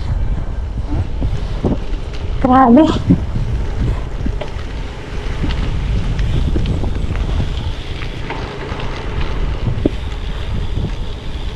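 Strong headwind buffets the microphone of a rider in a gravel bike race, a loud continuous low rumble throughout; someone briefly exclaims once near the start.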